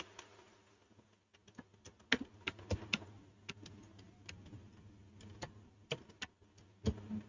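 Keys clatter on a computer keyboard in quick irregular bursts as a web address is typed, close and fairly quiet, with no voice over it.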